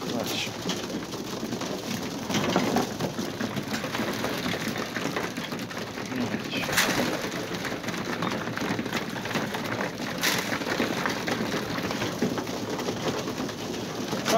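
Racing pigeons coo softly and continuously nearby at a loft, with a steady rustling background and a couple of brief sharp noises.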